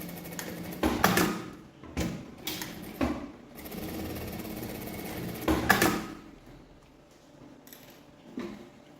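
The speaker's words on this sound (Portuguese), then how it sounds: "E aqui, ó, eu já vou costurar a aba. Eu vou passar uma costura aqui, aqui e aqui." A sewing machine stitches the flap of a fabric phone charger holder in close, loud bursts of rapid needle chatter. The machine stops and starts several times, separated by short pauses and the quieter handling of fabric.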